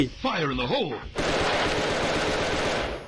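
Rapid automatic gunfire in a ghost-shooting game bursts out loud and close, a sustained stream of shots that follows a short voice-like wail.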